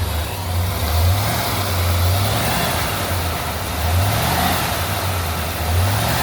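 A 1965 Chevrolet Malibu SS with the L79 engine revs repeatedly, its mellow exhaust note rising and falling in slow waves over a low rumble, fairly close and unaccompanied by speech.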